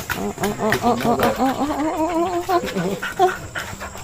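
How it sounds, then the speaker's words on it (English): Dog barking repeatedly in harmonic bursts at a house renovation site, fairly close and loud, with voices talking intermittently underneath. "Oh, crazy dog."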